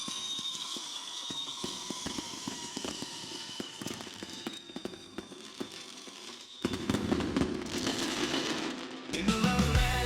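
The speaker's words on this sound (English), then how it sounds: "Leading the fireworks are lighting up the whole sky." Fireworks burst at a Fourth of July show in Terrell, with repeated distant booms and crackling pops at irregular intervals, growing denser and louder toward the end.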